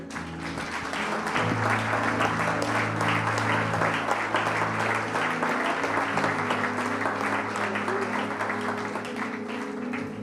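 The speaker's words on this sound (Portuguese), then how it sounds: "Vamos aplaudir o Senhor." A church congregation applauds together, dense sustained clapping from a large crowd that swells and holds steadily for about ten seconds, with music or voices faintly beneath.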